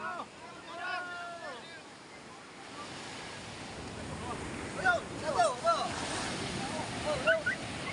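Sea waves wash steadily onto the shore under gusty wind noise, with brief bird-like chirps rising above the surf partway through.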